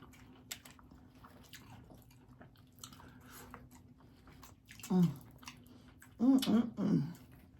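Crunchy bites of Hot Cheetos balls snack, three or four close, loud crunching bursts near the end after a quiet stretch with faint background hum.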